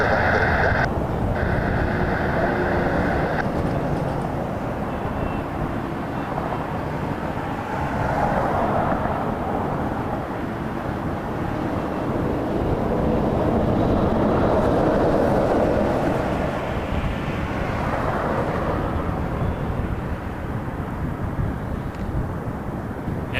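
A Cessna Citation business jet takes off at Toronto Pearson airport, heard from a distance as a broad, steady roar that swells and fades over more than twenty seconds with no talk.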